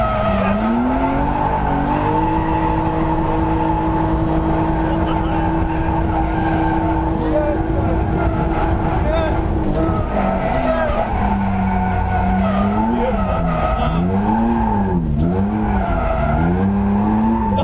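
A fully loaded BMW 330i drift car revs hard and slides through corners, engine droning steadily while tires squeal and warble in rising and falling sweeps, loud and close throughout.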